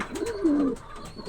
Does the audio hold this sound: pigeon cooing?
yes